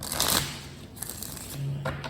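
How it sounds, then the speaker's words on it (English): A deck of oracle cards is shuffled by hand in quick riffling bursts, near and fairly clear, with a short pause between two rounds. "Shuffle that again."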